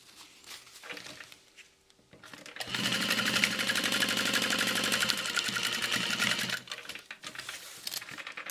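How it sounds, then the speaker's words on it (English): A sewing machine stitches the sides of a backpack closed in one steady, loud, rapid run of about four seconds, with quieter handling sounds before and after. "And then sew the sides closed."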